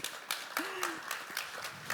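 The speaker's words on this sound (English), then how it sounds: "Khuloud deserves a round of applause" A small audience at a food-sector conference gives a light, sparse round of applause, individual claps audible in a loose rhythm, fairly faint, with a brief voice heard underneath.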